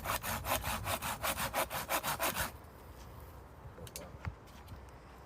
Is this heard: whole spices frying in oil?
no